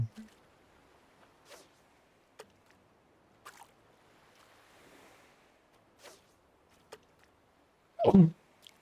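A single sharp sneeze near the end, loud and close, after a long stretch of quiet with faint scattered clicks.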